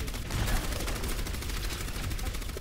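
Dense, steady gunfire from the shooter game Overwatch rattles on without a break, loud and close, filling the whole stretch with no talking heard over it.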